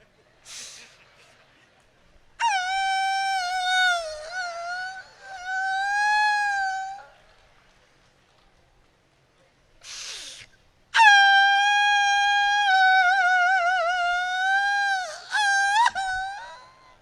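At a comedy mimicry performance, a person imitates a female dog's long, drawn-out winter wail in two sustained, wavering howls separated by a pause, loud and close with breathy gasps between.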